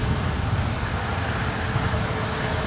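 A jet airliner takes off at San Francisco International Airport, its engines producing a loud, steady broadband roar that fills the whole span without a break.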